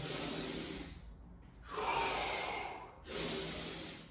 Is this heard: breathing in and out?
yes